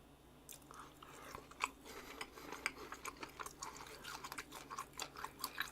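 Close, wet chewing of tomahawk steak, with crisp bites repeating at a steady rhythm, fairly loud against a quiet room.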